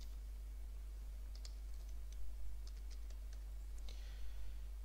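Computer keyboard keys tapped to type a command, a quiet irregular run of light clicks over a low steady hum, close and soft.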